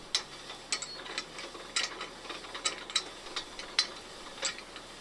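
The saw head mechanism of a homemade bandsaw mill turns in a plain lubricated socket without bearings, making faint, irregular clicking and ratcheting ticks at close range, with soft mechanical rustle between them.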